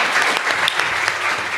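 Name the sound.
audience applause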